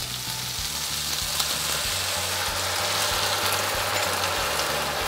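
Chicken stir fry sizzling loudly and steadily in a hot pan as sauce is added, a dense continuous crackle with faint stirring clatter underneath.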